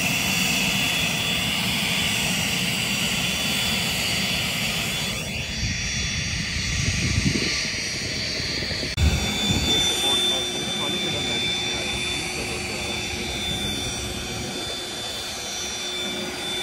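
Steady loud roar inside a passenger plane cabin in flight, a continuous low engine and air rumble with a faint high hiss, unbroken throughout.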